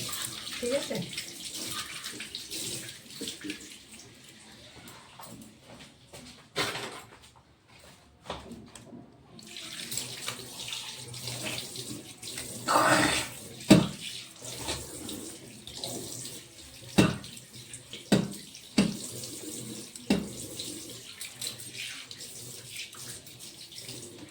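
Dishes are washed under a running kitchen tap, a steady close rush of water with clinks and splashes of handled utensils, and someone talking over it at times.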